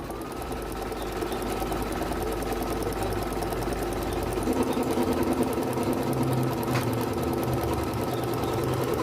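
An embroidery machine runs a safety stitch through quilted fabric and batting, a steady close mechanical hum with rapid needle chatter that continues unbroken throughout.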